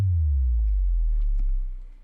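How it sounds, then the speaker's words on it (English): A deep synthesized sub drop: a low booming tone slides downward in pitch and fades out over about two seconds. "We also have a sub drop"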